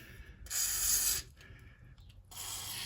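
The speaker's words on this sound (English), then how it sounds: "I'm just gonna give him another spray." Aerosol spray aimed at a rear shock absorber bolt on a Ford Ka, two short hissing bursts about a second apart, close and fairly quiet with faint handling noise between.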